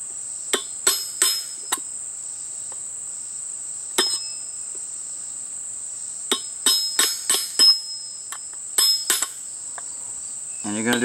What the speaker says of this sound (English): Using the large nail and the hammer, we're going to punch to the inside of this.